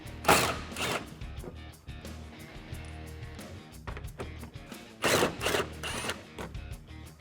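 A 10mm socket wrench loosening bumper bolts on a 2012-2015 Toyota Tacoma, giving two clusters of quick ratcheting clicks close by with quieter mechanical handling between, no talk.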